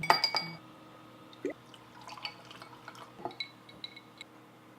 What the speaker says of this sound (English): Pour yourself a holiday cocktail.